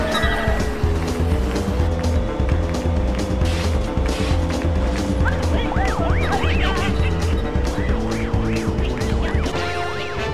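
Cartoon race cars in the Pocoyo Racing Wii game, a continuous loud engine drone with warbling pitch sweeps from tricks, backed by steady game music and effects.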